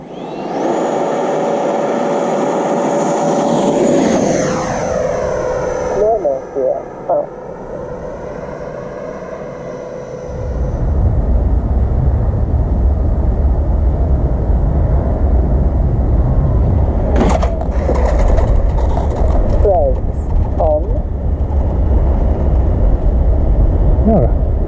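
A Freewing T-45 RC model jet is launched for its third flight, its high whining electric ducted fan climbing in pitch, then steady roaring flight noise with wind buffeting as people talk nearby.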